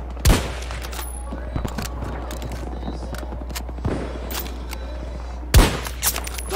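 Sniper rifle gunshots in a video game, three sharp, loud, widely spaced cracks over a steady low game drone with smaller impacts and clatter in between.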